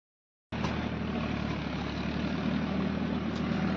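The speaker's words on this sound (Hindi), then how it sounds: "और अब दोस्तों इधर ट्रैक्टर चल रहा है, इसीलिए थोड़ा आवाज़ आ रहा है।" A tractor runs in a green paddy field during rice planting, a steady close engine drone with a low hum that starts abruptly and continues evenly throughout.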